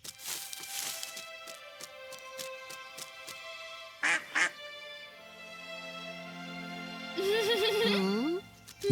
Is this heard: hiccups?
no